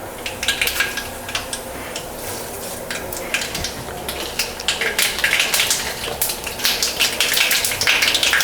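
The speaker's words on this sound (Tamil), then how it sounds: "ஒரு 1/2 ஸ்பூன் அளவுக்கு கடுகு போட்டுக்கலாம்." Mustard seeds splutter in hot ghee, a dense crackling sizzle of sharp pops that grows busier and louder over several seconds, close and continuous without talk.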